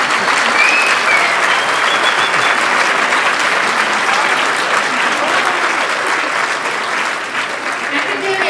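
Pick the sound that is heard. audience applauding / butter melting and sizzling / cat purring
audience applauding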